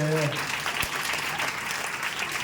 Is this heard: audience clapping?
yes